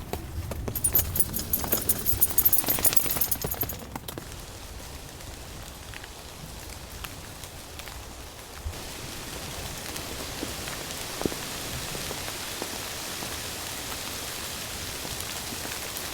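Heavy rain from a rainstorm drums steadily on a campsite, a dense, continuous hiss that is louder and rougher at first, then settles into an even patter with scattered drips, and nobody speaks.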